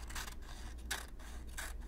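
Scissors snip through paper in three separate bursts, each a crisp rasping cut, over a quiet low hum.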